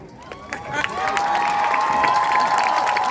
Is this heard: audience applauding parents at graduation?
yes